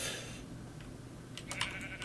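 A Minecraft sheep bleats faintly at first, followed by a few more short, distant bleats amid quiet game ambience.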